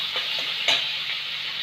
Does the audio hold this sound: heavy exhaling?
no